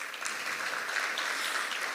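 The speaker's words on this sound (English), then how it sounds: "And while they're clapping for you" An audience at a grant distribution ceremony applauds the Minister of Youth Development and National Service with steady, even clapping from a seated crowd, heard at some distance and continuing unbroken throughout.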